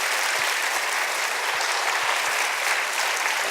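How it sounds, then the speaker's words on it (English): Audience applause following an evening lecture by Bruno Latour on war, peace and ecological conflict, a steady, dense clapping from a sizeable crowd that fills the room evenly throughout without any speech. "A round of applause for Dr. Bruno Latour."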